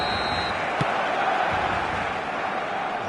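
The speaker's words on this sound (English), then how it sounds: "this place is living up to its reputation as one of the noisiest corners of the footballing world" Steady roar of a football stadium crowd inside a video game match on a clear evening, a dense continuous wash of cheering voices with one brief thump near the start.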